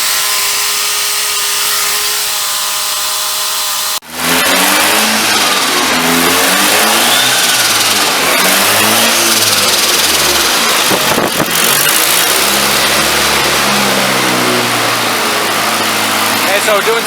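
A Mazda RX-7 FD rotary engine prepared for drifting runs during drivability tuning: a loud, steady drone with rising and falling revs after a sudden start, sustained close-up throughout.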